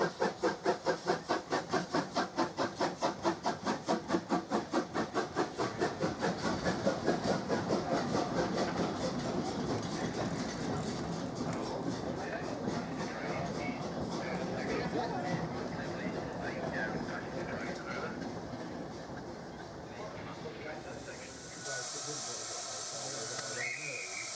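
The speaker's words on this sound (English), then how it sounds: "Harrogate pulls into the station, clearing the single track section to allow Howard to depart." Steam locomotive Harrogate on the Statfold Barn Railway runs into a station with rapid, regular chuffs that slowly ease and fade into a long, steady hiss of steam, ending in a sharper burst of escaping steam.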